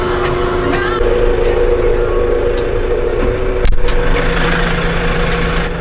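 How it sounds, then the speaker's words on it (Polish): A modern tractor's engine drones steadily while the tractor is driven, a loud, continuous mid-pitched hum with little change throughout. "Jeździmy ciągnikiem."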